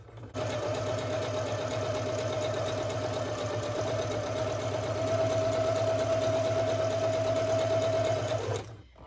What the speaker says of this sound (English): I'm sewing this because it has fabric on it.